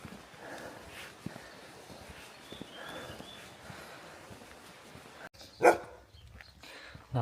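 A dog barks at a walker on a road in Spain along the Camino, a few sharp barks rising out of outdoor noise and footsteps, with one loud bark near the end.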